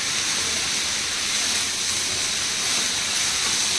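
Onion and garlic frying in a pan for a Malvani masala, a steady loud sizzling hiss, close and continuous with no talk.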